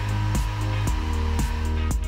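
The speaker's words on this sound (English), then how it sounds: "Adjust the hairdryer to a higher setting." Hair dryer on a high setting powered by a BougeRV pure sine inverter, a loud steady motor whine and airflow with a regular pulsing throb repeating about every half second.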